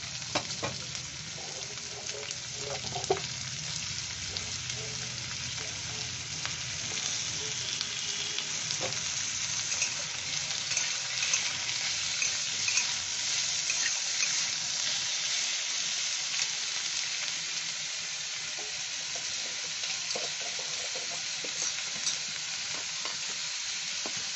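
Thinly sliced potatoes fry in a pan with a steady, even sizzle and crackle, joined by occasional light stirring scrapes throughout, close and continuous with no talk.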